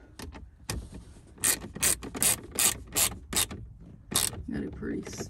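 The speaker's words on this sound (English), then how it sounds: "get your 7mm and tighten these screws, these bolts up, so your dash doesn't go" Rapid ratchet clicks from a 7mm socket ratchet tightening the dash bolts of a Ford F truck's radio install, coming in several short bursts close up with faint rubbing between them.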